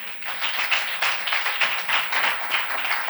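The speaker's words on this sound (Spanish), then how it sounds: "Denle un aplauso al Rey." A church congregation applauds during a sermon, with a steady crowd of hands clapping in a moderately loud, rippling wave that holds for several seconds.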